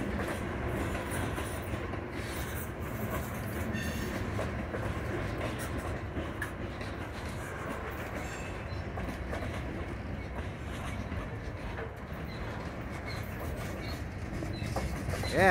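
Freight train on the Norfolk Southern line rolling past, a steady rumble of wagons and rails with faint clicking and squeal throughout, moderately near.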